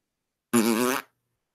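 A single fart sound effect, a short loud buzzing blast of about half a second standing alone in silence.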